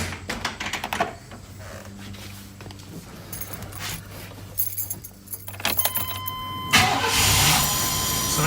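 A V8 car engine, dead battery, cranked with a Hulkman Alpha 85S jump starter: clicks and key rattles, then the engine catches near the end and settles into a steady loud idle, with no talk.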